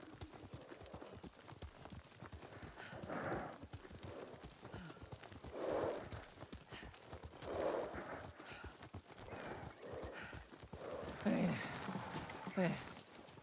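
Horse hooves from a video game ride, a steady clip-clop of a trotting horse with an occasional whinny, heard under game dialogue and background sound.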